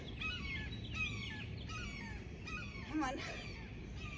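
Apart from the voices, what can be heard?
seagull calling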